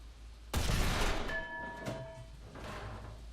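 A single AMX 30B2 tank cannon shot in War Thunder: one sharp, heavy blast with a rolling tail and faint metallic ringing, fairly near, with no talk over it.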